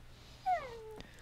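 A cat in the Minecraft video game gives a single short meow with a rising-then-falling pitch, fairly close and clear over quiet background noise, followed by a soft click.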